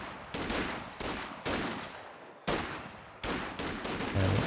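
Rifle volleys from US riflemen in Company of Heroes 2 battle Jaeger Light Infantry at close range, sharp cracks in irregular bursts of several shots with decaying echoes, fairly distant and moderately loud.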